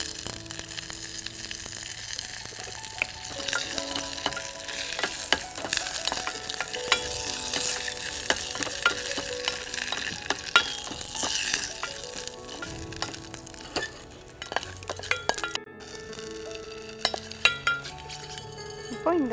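Curry leaves tempering in hot oil for a kuzhambu give a steady close sizzle and frying crackle, with stirring and occasional clinks of a spoon against the pan throughout, and no talk.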